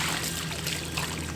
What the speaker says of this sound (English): So I'm actually going to try to siphon out this water if possible.